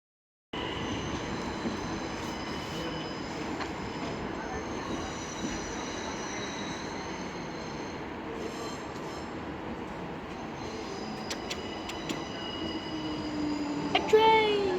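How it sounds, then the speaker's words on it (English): A train passing near Copenhagen on a trip from Malmo, a steady loud rumble of wheels on rails that runs throughout. Faint squeals and clicks come near the end. "A train!"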